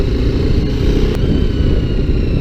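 BMW G310GS single-cylinder motorcycle engine revving at a steady high pitch, loud and close, a continuous drone with no talk over it.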